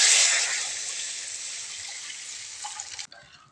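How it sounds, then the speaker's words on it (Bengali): Milk pouring into a kadai (wok) while making halwa, a steady bright liquid rush that fades gradually and stops abruptly near the end, close and alone. "এবার এই কড়াইতে দিয়ে দিলাম দুধ।"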